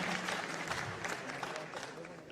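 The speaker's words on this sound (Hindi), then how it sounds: "आपकी जोरदार तालियों से हमारे अतिथियों का स्वागत और अभिनंदन।" A crowd claps steadily to welcome guests at a formal school education ceremony. The applause is continuous, full and fairly even throughout the short stretch, with no other sound standing out.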